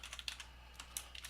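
Light, quick keystrokes on a computer keyboard, a short run of soft irregular clicks, heard close and alone.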